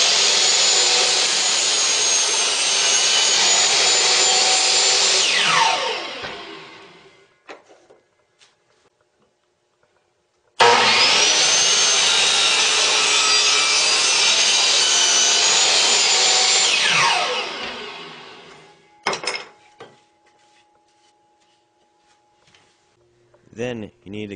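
A power saw cuts a piece of wood for a homemade wooden crossbow in two loud, steady runs of about six seconds each, each run winding down and followed by quieter handling noises.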